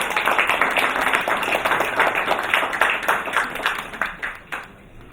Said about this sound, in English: please give Preeti Raja a big round of applause